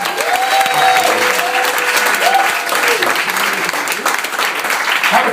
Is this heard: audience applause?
yes